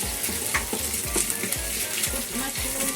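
Mushrooms stir-frying in a hot pan for a ginger pork stir fry, with steady sizzling and repeated scraping strokes of a utensil stirring the pan, close and fairly loud with no voices.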